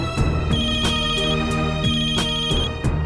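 A phone ringtone plays a repeating melodic tune, loud and close, with no voices over it.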